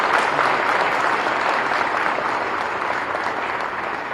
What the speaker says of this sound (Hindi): जोर से ताली हो जाएगी।